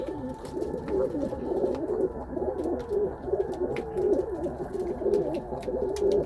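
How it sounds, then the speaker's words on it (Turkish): Many pigeons coo in a coop, a dense overlapping chorus of soft rolling coos, close and continuous, with faint clicks and rustles among them. "Bunlar uçan kuşlarımız arkadaşlar."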